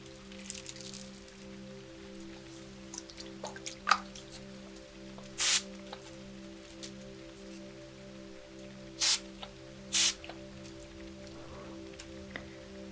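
A handheld spray bottle of aura mist gives three short, soft hissing spritzes, close and isolated, over a faint steady hum and gentle dripping sounds, with no talking.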